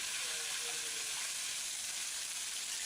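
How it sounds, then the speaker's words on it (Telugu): A quiet, steady hiss of tempering spices sizzling in hot oil for peanut coconut chutney, with no talking. "ఇప్పుడు ఈ మిశ్రమాన్ని తాలింపులో వేయాలి."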